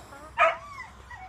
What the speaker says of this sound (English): the dog's barking because we're not paying attention to him